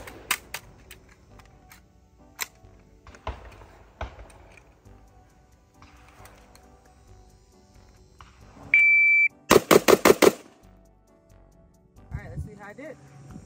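A pistol shooting drill at an outdoor range: an electronic timer beep, then five rapid, loud, evenly spaced gunshots in a tight burst. Talk and scattered handling noises come before it.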